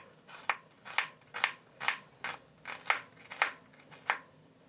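A knife chops onion on a cutting board in about ten crisp, evenly spaced strokes, close and clear with no talking.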